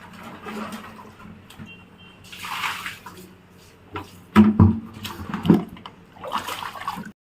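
Tap water running into a tub where a blanket is being soaked at home, heard as intermittent splashing and pouring with a few louder thumps and gurgles partway through, fairly close, with no talking.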